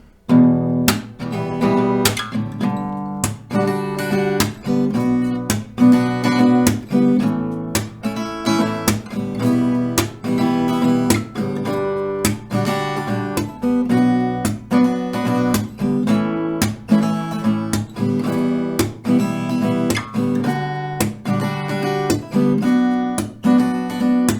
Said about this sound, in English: That will sound like this.